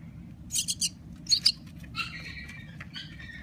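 A rescued baby bird gives a few short, high chirps in quick clusters, close by, over a low background hum.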